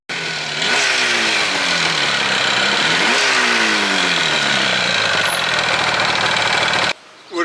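A 1977 Yamaha RD400 two-stroke motorcycle revs loud and close, its engine rising and falling in two strong throttle sweeps before holding a high, buzzy drone that cuts off abruptly.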